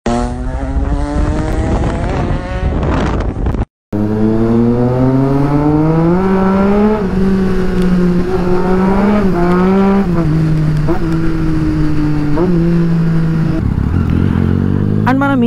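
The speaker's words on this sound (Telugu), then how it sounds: "ఒక వైట్ కలర్ స్ట్రీట్ ట్రిపుల్, దాని కూడా ఎస్సీ ప్రాజెక్ట్ ఎగ్జాస్ట్ ఉంది, క్రేజీ సౌండ్ వస్తుండే" Triumph Street Triple 675 motorcycle with an SC Project exhaust revving hard at night, loud rising and falling engine pitch with sharp throttle blips after a brief cut, close and sustained.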